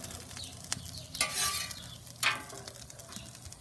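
Butter and oil sizzle on a griddle with a low frying hiss throughout, broken by a few sharp clinks and two louder bursts of crackling as utensils scrape and stir.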